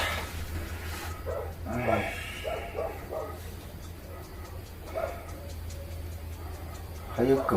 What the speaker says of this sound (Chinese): 还有狗叫的。